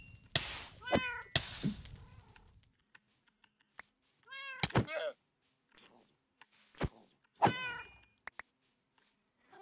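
Cats meow in the Minecraft video game, giving four or five clear, drawn-out, close calls with short pauses between them, along with a few soft thuds.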